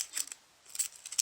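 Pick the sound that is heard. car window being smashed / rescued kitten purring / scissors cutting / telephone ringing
scissors cutting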